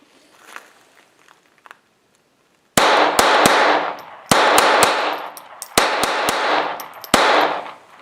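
Gunshots from a Smith & Wesson M&P 22 pistol in .22 caliber, a series of sharp, loud cracks fired in quick clusters with short pauses between groups, after a quiet start with faint background sounds.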